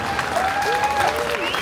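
A crowd claps at a jazz day celebration in Yerevan, a brief, steady burst of applause with a voice speaking over it.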